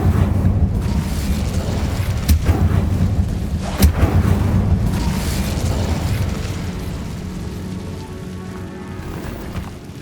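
Fire spell bursts in the Hogwarts Legacy video game: two sharp booming cracks punctuate a continuous crackling, rain-like roar that slowly fades toward the end, with no talking.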